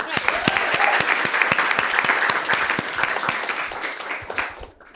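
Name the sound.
audience round of applause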